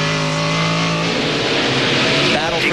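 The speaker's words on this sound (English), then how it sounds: "Hear the throttle response." A 1999 NASCAR Craftsman Truck Series race truck engine blips and revs hard on throttle in an onboard view, loud and continuous, with pitch sweeping up and down as a broadcast commentator talks over it.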